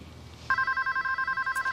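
A telephone rings in a steady electronic double-tone trill, starting abruptly and repeating in short even pulses, loud and close with no one talking.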